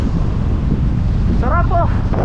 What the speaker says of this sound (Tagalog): Sarap ng hangin dito guys.